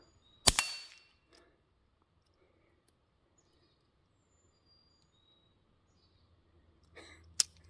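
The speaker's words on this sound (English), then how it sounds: "how fast I can put 3 rounds on target starting now" A LifeCard pistol fires in an otherwise quiet space, one sharp close crack early and another near the end, with faint handling clicks between them.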